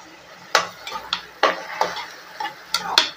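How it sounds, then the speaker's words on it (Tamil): Chopped tomatoes are stirred into sautéed onions in a pan, with a spoon scraping and clinking against the pan in a quick, irregular series of close strokes and a faint sizzle beneath. "இப்போ நம்ம கட் பண்ணி வச்ச தக்காளியை சேர்த்துக்கலாம்."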